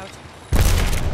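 Frag grenade blast in Apex Legends, a sudden heavy boom that hits halfway through and stays loud and rumbling to the end, close by.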